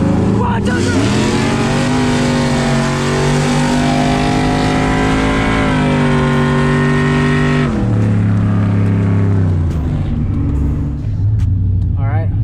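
A cammed truck engine street racing in Mexico near the Texas border, revving hard and loud as pitch climbs through gears, then drops off and rises again, close by, with voices talking over the roar.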